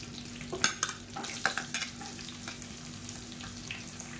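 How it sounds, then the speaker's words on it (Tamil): Green chillies, onion and curry leaves sautéing in a pan: a low steady sizzle with a few scraping stirs of a spoon near the start, close and fairly quiet. "இது எல்லாத்தையும் நல்லா வதக்கி விட்டுக்கலாம்"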